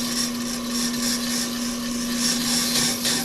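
A brake lathe slowly cuts a brake rotor, giving a steady close machine hum with a faint, scraping whir that rises and falls slightly throughout, with no talking.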